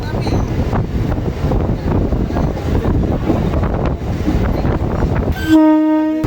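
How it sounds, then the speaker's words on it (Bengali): A Krishak Special local train pulls away from Chakdaha station with steady, loud rumbling and wheel noise throughout, then a sustained train horn sounds near the end. "চাকদা থেকে আমাদের ট্রেন ছেড়ে দিল।"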